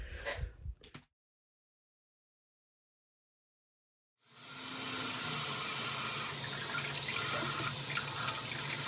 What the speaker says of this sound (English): you're just going to start by running warm water all over the bar